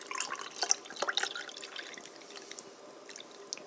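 Water pours into a cup or mug while decaf chicory coffee is being made, heard as a faint, close trickle with small drips and splashes that taper off toward the end.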